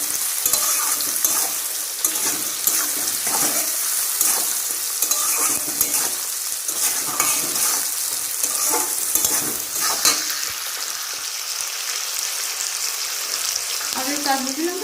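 Tomatoes with a pinch of salt stir-fried in a pan, a steady close sizzle with scraping spatula strokes throughout, no talk.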